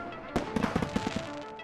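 Handmade fireworks going off in a quick crackling burst of sharp pops and bangs, several rapid reports over about a second, heard at a moderate distance with no voices.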